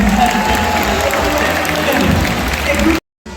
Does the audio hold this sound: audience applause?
yes